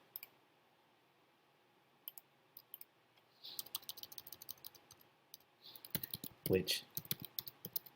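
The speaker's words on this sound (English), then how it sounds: "We'll just type in some text and save it" Text is typed on a computer keyboard while setting up an HTML page, quiet scattered clicks at first, then a denser run of keystrokes in quick bursts up close, with a brief word spoken.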